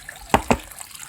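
Water splashing out of a container of freshly washed wolffia plants, heard as two short, close splashes about a fifth of a second apart over quiet background, drained by hand at an outdoor fish farm.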